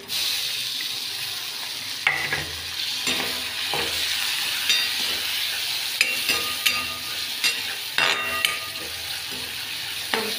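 Coconut, chopped tomato and curry leaves stir-fried in a pan for soybean pulao, a steady sizzle with a spoon scraping and clinking against the pan in irregular strokes, close and clear with no talk.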